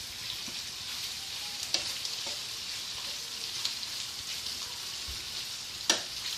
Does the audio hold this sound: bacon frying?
yes